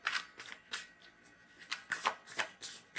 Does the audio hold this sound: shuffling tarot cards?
yes